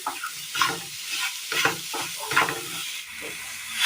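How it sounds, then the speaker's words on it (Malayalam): Banana cooking and being mashed in a pan for a Kerala snack: a spoon scrapes and stirs in repeated strokes over a steady sizzle of frying, close and moderately loud. "നന്നായി ഒന്ന് വേവിച്ചൊന്ന് ഉടച്ചെടുക്കണം."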